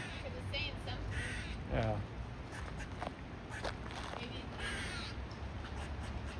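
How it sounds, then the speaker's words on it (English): A crow caws repeatedly beside Cultus Lake in British Columbia, Canada, the calls moderately close over steady outdoor ambience and light movement, with a brief spoken word. "there's a bird somewhere"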